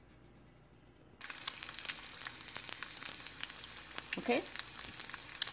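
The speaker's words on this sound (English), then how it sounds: "we're gonna cook that egg" An egg dropped into a hot pan bursts into loud, crackling sizzle after a quiet start, spitting and popping steadily close by, with a brief spoken word near the beginning.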